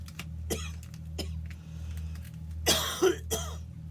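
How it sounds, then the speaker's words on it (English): A person coughs several times in separate bursts, with two heavier coughs near the end, close to the microphone over a low steady hum. "I'm coughing like I normally would."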